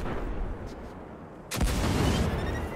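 Cannon fire in the video game Destiny 2, one heavy booming blast bursting in after a stretch of low rumbling ambience, loud and close with a rolling tail.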